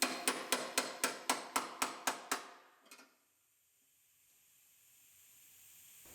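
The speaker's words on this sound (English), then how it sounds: "Knock the apron loose from the tower." Around ten sharp, evenly spaced metal hammer blows ring out close by as a spot-welded apron on a 2019 Ford Explorer is knocked loose from the shock tower, followed by a faint clink and quiet workshop hiss.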